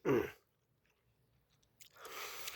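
Wet, crunchy chewing of spicy Pulmuone cold noodles topped with raw pollock, mukbang style, heard up close in a loud bite, a quiet pause, then more chewing.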